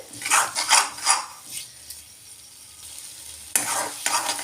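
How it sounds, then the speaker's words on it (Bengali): Potatoes being stirred and sautéed for a white potato curry in a pan, with bursts of scraping strokes and sizzling, a quieter stretch of soft frying, then more loud stirring near the end; nobody speaks. "এবার ভালো করে কষিয়ে নিয়ে জল দিয়ে দেবো"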